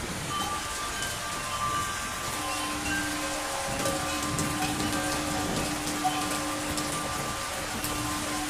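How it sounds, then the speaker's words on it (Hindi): Steady rain falls on a surface, a constant even patter with faint hum in the background and no voices. "बारिश यूसुफ के वजूद बाबरकत की वजह से बरसी है।"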